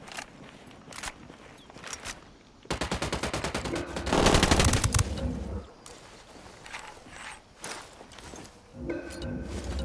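Gunfire crackles through a firefight in Ghost Recon Wildlands: single shots, then sustained rapid automatic bursts that peak loud and close before breaking back into sporadic shots, with some footsteps between.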